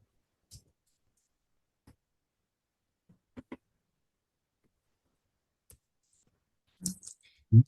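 Keyboard keys clicking in a quiet room: a handful of sparse, isolated taps spread out over several seconds, with a slightly louder cluster of clicks near the end.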